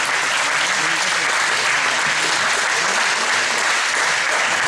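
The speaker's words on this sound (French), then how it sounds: "on les applaudit bien fort" A crowd applauds steadily and loudly throughout at a martial arts belt ceremony, dense clapping with no pauses.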